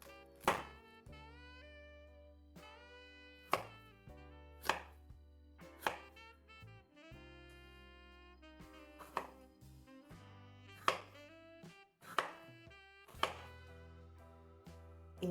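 A knife dices potatoes on a cutting board, producing crisp rhythmic thuds roughly every second, set against steady background music.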